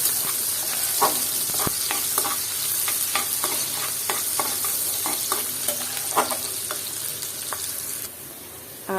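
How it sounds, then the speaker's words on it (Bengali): Chopped onions fry with cinnamon sticks in a pan for a mixed vegetable curry, a steady sizzle broken by repeated close scraping stirs from a spatula, with no talking. "এখন দিয়ে দিব হচ্ছে পেঁয়াজ কুচি আর এটাকে আমি সামান্য নেড়ে ছেড়ে দিলাম"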